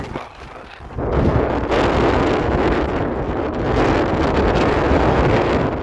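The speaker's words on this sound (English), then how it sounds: "How windy it is." Strong wind buffets the microphone in heavy roaring gusts, rising abruptly after a quieter second and staying loud throughout.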